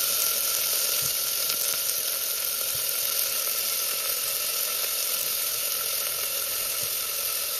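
Onion and tomato frying in oil inside a pressure cooker for a chicken dish, giving a steady, loud, continuous sizzle with a bright hiss that holds evenly throughout, with no voices.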